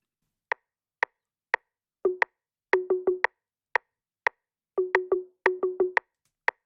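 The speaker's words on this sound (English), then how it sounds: "Now for the 808 percussion sounds, we have a couple of toms and a rim that sounds like this." Sparse 808 drum-machine hits: crisp, clicky rimshots ticking on the beat, joined by quick runs of short, pitched tom thumps in a looping pattern.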